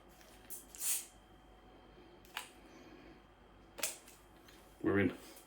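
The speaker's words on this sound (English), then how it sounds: "I did have my trusty Las Vegas bottle opener at hand." A 660ml Budweiser 4.5% beer bottle is pried open with a Las Vegas bottle opener, giving a few quiet metallic clicks and scrapes and then a sharper pop with a short hiss in a calm room.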